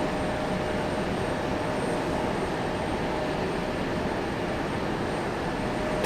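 Embraer E175 jet airliner taxiing at Raleigh-Durham International Airport, a steady distant engine roar with broadband rush and a faint whine, heard alone.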